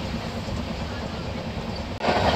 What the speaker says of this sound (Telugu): మన ట్రైన్తో పాటు పక్కన క్రాస్ అవుతుంది కదండి, ఏం ట్రైన్ అనుకుంటున్నారు అది?